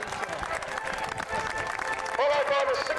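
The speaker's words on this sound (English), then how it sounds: "Oh, give them a round of applause. Applause!" Crowd applause for a Tennessee battalion in grey and red marching past at a historical reenactment grand parade at Kirby Hall: dense, steady clapping that swells near the end, with a voice talking over it.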